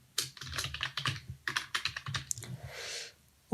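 Rapid keystrokes clatter on a computer keyboard as code is typed, a close run of uneven clicks with short pauses and no speech.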